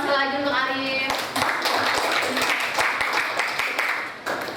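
An audience in an Indonesian-language classroom bursts into applause for the student Arif. The dense clapping runs steadily to the end after a brief voice at the start.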